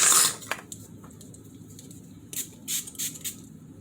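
A quick burst of Wet n Wild Photo Focus cucumber facial spray hisses at the start, followed by faint clicks and a few short, soft spritzes later on, close and quiet.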